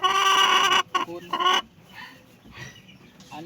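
Backyard chickens clucking and squawking. A loud, harmonic cackle runs for almost a second, followed by a few shorter clucks, then quieter, softer fowl sounds.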